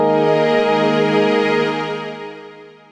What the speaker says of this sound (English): we are adding in some strings to make the sound richer.